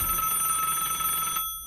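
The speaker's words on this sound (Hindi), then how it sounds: "उसके बाद फिर से टेलीफोन बजता है" An old telephone rings with a steady, loud electronic bell tone that cuts off abruptly near the end, with no voices over it.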